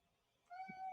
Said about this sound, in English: He says meow.